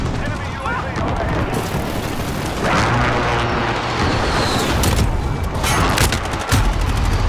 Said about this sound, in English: I was just popping shots right there